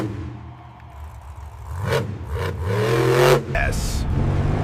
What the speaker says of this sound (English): Incredible power coming from that enhanced engine